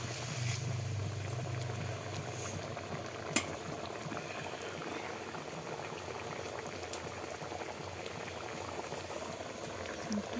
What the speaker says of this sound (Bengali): একটু সিদ্ধ করার জন্য